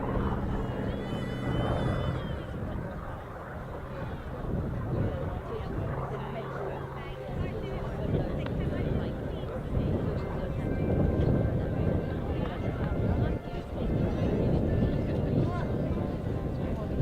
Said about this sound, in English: So the classic curved approach there in the Sea Fury.